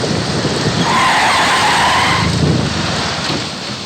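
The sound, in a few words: car pulling up and stopping in front of college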